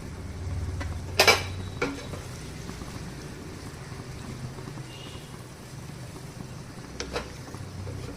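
A spatula stirs egg fried rice with paneer in a pan, giving a few sharp clanks against the metal, the loudest near the start, over a quiet, low scraping background.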